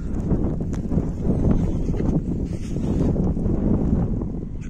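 Low rumbling cold winter wind gusts against the microphone continuously outdoors near sheep, with faint outdoor sounds underneath and no clear speech.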